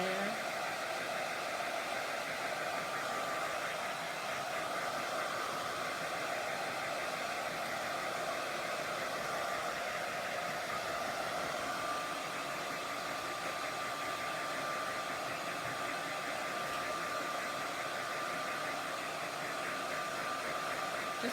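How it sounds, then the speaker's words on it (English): A hair dryer blows steadily on chalk paint on a primitive wood sign, a continuous even whooshing hum at close range that holds for the whole stretch with no pauses. "I'm just going to hit this with a hairdryer for a second."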